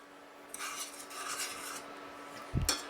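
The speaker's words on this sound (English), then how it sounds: "you want to stir it with your mixing spoon" A mixing spoon stirs milk and chocolate in a pot, making a stretch of soft, close scraping strokes followed by a sharper metallic clank near the end, with no voices.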